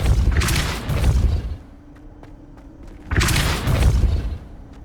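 A Depulso force spell cast in Hogwarts Legacy lands as two heavy booming thuds, each a deep rumbling blast lasting over a second, separated by a quieter stretch with a faint steady hum.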